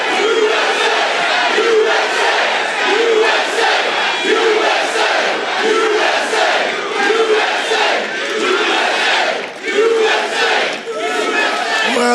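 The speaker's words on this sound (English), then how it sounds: "Well, this is a nice crowd." Large rally crowd in Mount Pocono, Pennsylvania, cheering and chanting loudly and continuously, a dense roar of many voices with rhythmic shouted bursts throughout.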